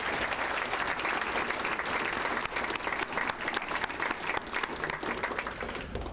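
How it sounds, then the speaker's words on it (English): Applause from the audience at a volunteer recognition gala: dense, even clapping from a large crowd, sustained for several seconds at a steady level with no speech over it. "Give yourselves a round of applause for that."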